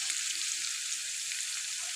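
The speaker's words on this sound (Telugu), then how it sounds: "పచ్చిమిర్చి, ఆనియన్స్ ఇవన్నీ యాడ్ చేసుకోవాలి. ఓకేనా? ఇప్పుడు ఇవన్నీ మంచిగా మనము ఫ్రై చేసుకోవాలి." Onions and green chillies fry in a pan with a steady, close hiss of sizzling oil that stays even throughout, with no talking over it.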